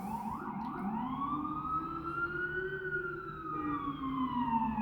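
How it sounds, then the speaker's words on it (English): An ambulance siren wails steadily in one long rising and falling sweep, sounding moderately distant and continuous throughout, with low traffic rumble beneath. "I apologize for the ambulance or what have you"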